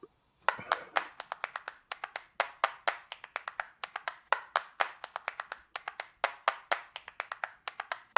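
Clapping loop from a cinema sound effects pack, several hands clapping in quick irregular bursts of claps with brief gaps between groups, fairly close and clean with no talking over it.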